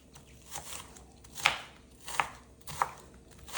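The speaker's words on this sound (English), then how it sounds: "I'm using the red onion. I need it to be finely chopped." A knife chops a red onion finely on a cutting board in a quiet kitchen: three sharp, close knife strikes spaced about a second apart, with softer taps between them.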